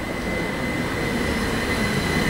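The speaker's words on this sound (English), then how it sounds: "The train itself is a class 357 Electrostar," A C2C class 357 Electrostar electric train passes at Benfleet with a steady, loud rumbling roar and a sustained high whine, continuous throughout.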